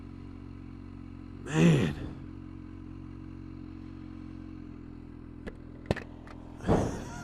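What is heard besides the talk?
Kawasaki H2 SX SE supercharger sound when backing off throttle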